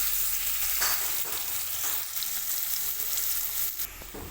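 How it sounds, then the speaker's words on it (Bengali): Sliced onions sizzle and crackle steadily in a hot pan, close and fairly loud, with occasional stirring scrapes. "মিডিয়াম সাইজের একটা পেঁয়াজ স্লাইস করে কেটে নিয়েছি ব্রাউন কালার করে পেঁয়াজটা ভেজে নেব"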